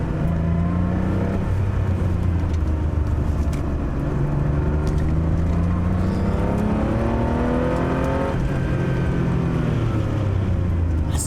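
A Porsche 911 SC on a road test drive, its engine loud and close as it revs up and down through a run of bends, pitch sweeping through several gear changes, with no talk.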